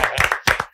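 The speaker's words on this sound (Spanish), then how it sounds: "¡Aplausos, hombre!" Sharp, close hand claps come in quick uneven bursts, loud and brief, during a Spanish-language interview.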